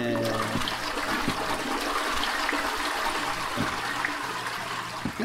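A toilet flush in the beach-building video game Beach Club Simulator 2024 plays as a steady rushing, trickling gurgle of water, moderately quiet and continuous for several seconds with no speech over it.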